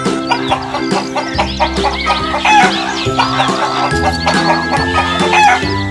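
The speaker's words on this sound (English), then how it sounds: "H for hen." A hen clucks in a busy run of calls close to the listener, with light music playing steadily underneath.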